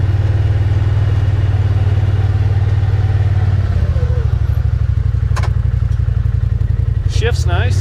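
A John Deere Gator RSX850i utility vehicle's engine runs loud and close at around 2,000 RPM, its steady low drone changing pitch partway through as it drives, with a few brief clatters near the end.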